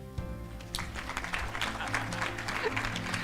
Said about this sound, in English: Please clap for the Dean.